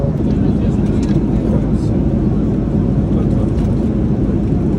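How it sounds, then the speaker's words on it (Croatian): Steady airplane cabin ambience during a flight, a continuous low engine and air roar filling the space, with faint murmurs of passengers in the background. "evo možete vidjeti ova atmosfera trenutno u avionu"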